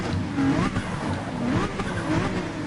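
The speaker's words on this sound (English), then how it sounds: "rev the engine, it looks like" In Gran Turismo, a race car engine revs at the Red Bull Ring on wet tyres, droning steadily with rising and falling pitch and accompanied by tyre noise throughout.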